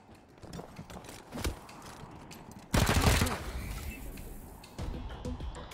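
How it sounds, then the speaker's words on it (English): Gunshots in the video game Wasteland 3: a few sharp cracks early on, then one loud, close blast midway that rings out before fading into quieter background noise. "Come up here and take a shot at him."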